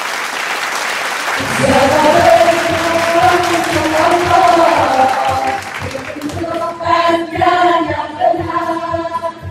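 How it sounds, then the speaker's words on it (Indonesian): A large crowd of thousands at a Muharram religious gathering in Jakarta applauds loudly and steadily, with voices and music-like tones rising over the clapping and the applause thinning toward the end. "Beri tepuk tangan sekali lagi yang meriah."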